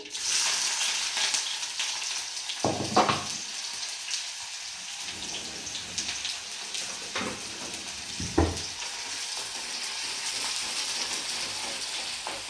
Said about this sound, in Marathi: तेल गरम झालंय जिरं टाकू